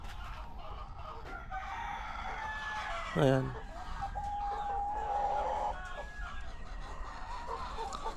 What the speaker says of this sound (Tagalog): Nandito rin yung manok ko